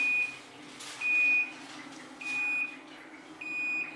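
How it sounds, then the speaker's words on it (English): A high electronic beep sounds in repeated half-second bursts, evenly spaced, over a quiet background hum: the end-of-cycle buzzer of a Panasonic NA-F62B3 6.2 kg top-loading fully automatic washing machine. "the buzzer has started now"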